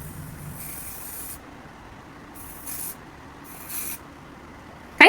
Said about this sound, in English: So this is how we spray.